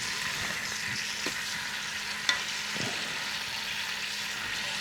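Chicken skin browning in a Ninja Foodi pot, a steady close sizzle and crackle of frying with a few faint clicks and taps from handling.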